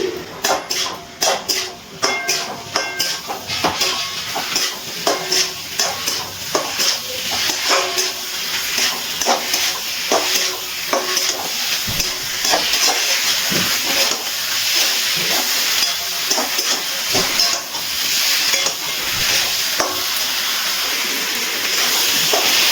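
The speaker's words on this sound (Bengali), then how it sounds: "আলু আর চিংড়ি মাছ খুব ভালো করে মশলার মধ্যে একটু আবারও কষিয়ে নিচ্ছি।" Potatoes and prawns stir-fried in spiced masala, a steady loud sizzle and hiss running throughout with repeated sharp scraping clicks of a spatula against the pan.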